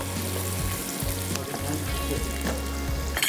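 Rice cooks slowly in a pan on the stove, giving a loud, close, continuous sizzle and fry with occasional stirring scrapes, with no talking.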